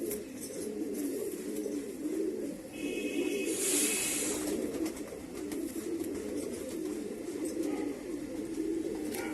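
A pigeon coos softly in shade, low throaty murmurs repeating over a faint background hiss, with a short sharper rustle partway through.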